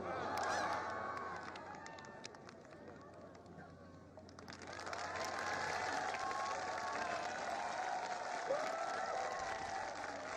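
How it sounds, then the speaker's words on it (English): Golf gallery at a women's professional final round in Korea applauding and cheering a birdie putt: a steady wash of clapping and crowd noise that swells louder midway, heard at a distance with faint voices mixed in. "Listen to the crowd."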